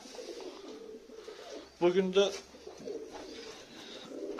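Tumbler pigeons coo in a short, close burst of throaty notes, with someone speaking briefly before and through it in a quiet room.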